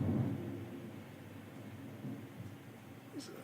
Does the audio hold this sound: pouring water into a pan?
no